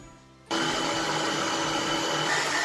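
An electric mixer switches on abruptly and whirs steadily at high speed, beating eggs with sugar until pale for a Christmas log cake, loud and unbroken after a quiet start.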